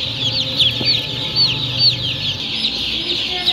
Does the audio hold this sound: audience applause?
no